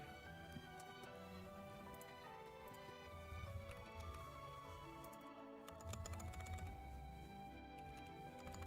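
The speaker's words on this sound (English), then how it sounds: "It's so hard to see what I'm typing when I can't see it." Keys on a computer keyboard are typed in short, faint bursts during an online raid boss game. Quiet electronic game sounds play steadily in the background.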